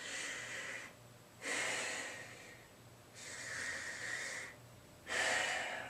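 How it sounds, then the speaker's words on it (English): Deep breaths drawn in and pushed out with the tongue protruding, done as a breathing exercise, give three strong breathy rushes of air separated by short pauses, close and steady with no talking. "we're sticking our tongue out while we're breathing very deep in and out"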